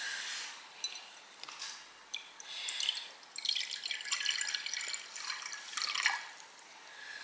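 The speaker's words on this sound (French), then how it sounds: "Alors, on va mettre un peu d'eau chacun." Water poured in small amounts for a chocolate cake, giving faint, soft trickles and drips in short bursts at low volume, with no voices.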